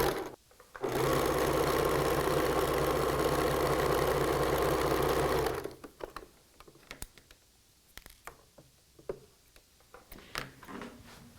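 A sewing machine runs a T-shirt quilt seam in one continuous whirring burst of several seconds, close and steady, then stops, leaving soft handling clicks and rustles.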